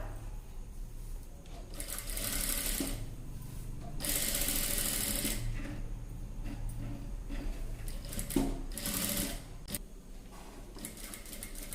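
Sewing machine stitching piping thread around a blouse neckline, running in several bursts of fast rattling whir separated by brief pauses, close and fairly loud, with no talk.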